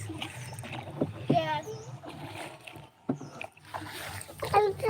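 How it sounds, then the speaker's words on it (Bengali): A small rowboat on a village river rocks and splashes, with water sloshing against the hull in irregular bursts while people talk close by. "এই নৌকা দোলে বেশি"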